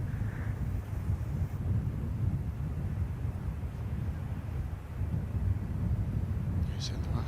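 Strong gusting wind sweeps across a golf course during the final round of a women's amateur Asia-Pacific championship, a loud, steady low roar buffeting the microphone throughout with brief surges, and no voices present.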